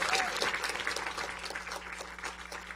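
Audience applause fills a council session chamber, a steady, moderately loud wash of clapping that continues evenly for its whole length without voices over it.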